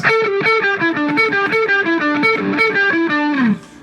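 A fast, loud pentatonic run of distorted electric guitar notes, picked rapidly in a repeating pattern and ending with a bent note sliding down.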